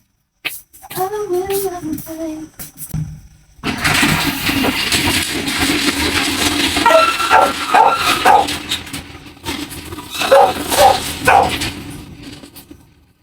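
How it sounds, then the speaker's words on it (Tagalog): Several dogs outside a sari-sari store at night bark in repeated bursts, first a lone whimpering howl, then overlapping barks near and loud against a steady background din. "gulo na naman yung mga aso"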